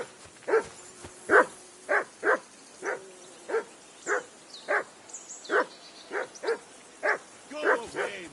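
A dog in the medieval role-playing game Kingdom Come: Deliverance 2 barks repeatedly in a steady rhythm, about fifteen close, loud, evenly spaced woofs with no talk over them.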